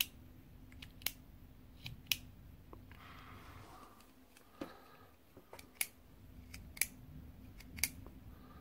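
A Parker B-5 ballpoint pen, a rare English-made model, clicked by hand close up in a quiet room, with a series of crisp, sharp snaps at uneven intervals and a faint rustle in between.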